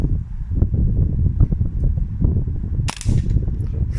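A Walther Rotex RM8 .22 air rifle fires outdoors on a windy field-target course, a sharp loud crack near the end over steady wind noise buffeting the microphone, with no distinct pellet impact after it.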